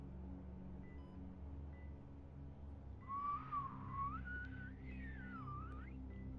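A person whistles a wavering, sliding tune for a few seconds over steady low background rumble from a Walking Dead game scene, starting partway in and fairly quiet.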